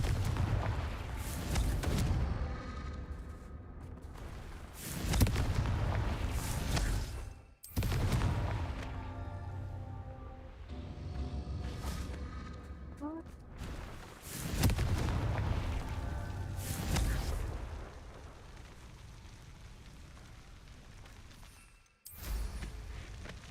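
Confringo blasting spell explosions from Hogwarts Legacy, a series of loud booming blasts repeating every few seconds, each with a sharp onset and rumbling decay.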